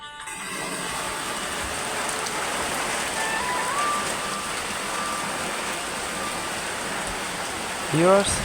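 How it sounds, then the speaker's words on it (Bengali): Rain begins falling during outdoor cooking, making a steady, even patter that holds for the whole stretch, with a brief faint tone and a small bump of sound near the end. "বৃষ্টি শুরু হয়ে গেল"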